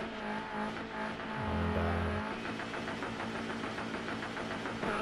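A turbocharged Group B rally car engine in DiRT 4 revs hard and holds at high revs, then falls briefly and climbs again. The roar is steady and dense, with no voices over it.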